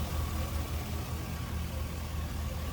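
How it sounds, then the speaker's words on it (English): A 2004 Chevrolet SSR with just over 15,000 miles idles smoothly, a steady low engine hum with an even rumble and no revving, close and continuous without speech. "Smooth running engine."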